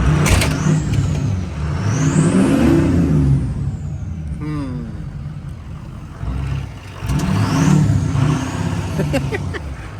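A 1979 Ford F250 with a 6.0 Powerstroke diesel stuck in snow, engine revving hard in two long surges with whining wheelspin between quieter idling stretches, close and loud.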